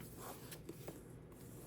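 Zipper on a small vintage two-tone brown leather Dooney & Bourke purse gives a faint, short scraping pull against a steady background hiss.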